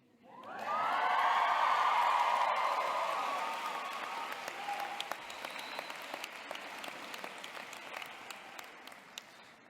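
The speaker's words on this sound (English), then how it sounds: "You can cheer." An audience at a university honorary fellowship ceremony bursts into loud applause with some cheering, swelling quickly and then thinning into scattered claps over nearly ten seconds.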